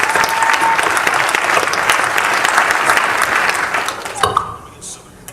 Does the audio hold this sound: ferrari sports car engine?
no